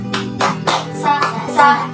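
Indonesian elementary classroom doing a rhythmic clapping routine, a few evenly spaced, close hand claps in a short patterned sequence, with children's voices chanting along over the claps.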